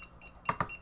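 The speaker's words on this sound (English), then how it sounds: "Now tag number 2 is beeping and flashing." Two short electronic beeps in quick succession from a Bluetooth tracker tag alert, close and fairly loud, over a quiet background.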